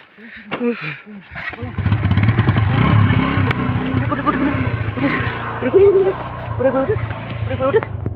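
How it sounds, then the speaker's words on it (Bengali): A motorcycle engine starts and idles with some revving, close and fairly loud, under excited shouting voices that continue throughout. "Honda start they"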